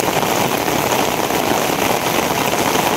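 Heavy rain pours down steadily outdoors, a dense, loud, unbroken hiss of drops with no pauses and no talk over it.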